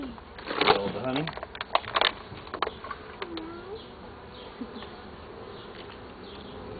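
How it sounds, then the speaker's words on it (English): Honeybees buzz around an opened urban backyard beehive in Spokane, Washington, as a second super is added, a continuous close droning hum with people talking over it at the start. "I got a bee on my leg."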